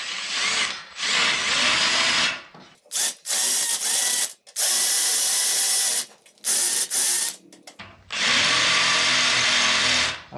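A power drill with a 3/8-inch bit whirs in repeated bursts, starting and stopping with short pauses between, close and loud, with a grinding bite as it drills out metal rivets on a garage door track.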